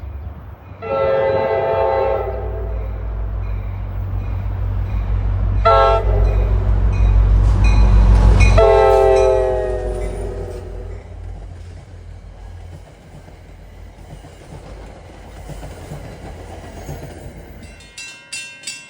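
A deadhead train rumbles past nearby on the former Erie main line in Bergen County, New Jersey, with several long horn blasts, the rails clattering underneath, then the noise fades away as it moves off.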